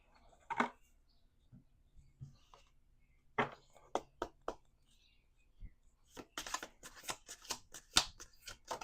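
Dark Mirror shadow work cards are shuffled and handled close up, giving soft scattered riffles and taps that build into a quick run of crisp card flicks near the end, in an otherwise quiet room.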